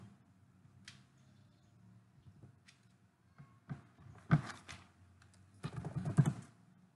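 Keys clatter on a Windows laptop keyboard in short, irregular bursts of close, crisp taps, quiet at first and then quicker clusters toward the end.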